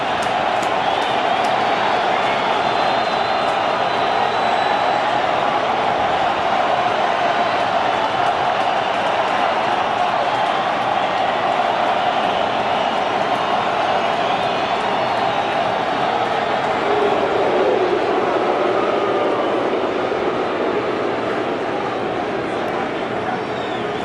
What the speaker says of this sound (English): And I don't know how a crowd this soaked can make this much noise.